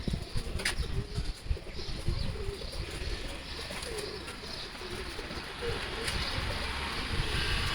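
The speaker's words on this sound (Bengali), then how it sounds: "এরা আমার কবুতরগুলো দেখেন," Pigeons released from their coop on a mild, breezy morning flock eagerly to feed, with steady cooing and fluttering wings close by over a constant outdoor wind rush, with no talk.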